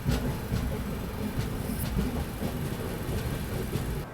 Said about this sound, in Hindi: ये आ गई ट्रेन चंद्रावतीगंज रेलवे स्टेशन